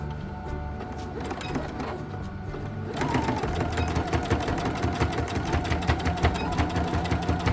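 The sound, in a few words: sewing machine stitching a scrappy potholder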